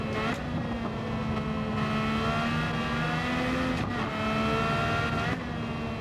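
A Honda RA272 Formula One car in Gran Turismo 7 races through a lobby event. Its high, buzzing engine whine holds steady for several seconds, with pitch dips at brief shifts and a close, loud, continuous drone.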